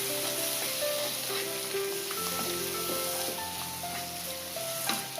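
Boiled eggs with ginger paste sizzle in a pan in a dense, steady hiss, with sustained melodic tones playing over it throughout.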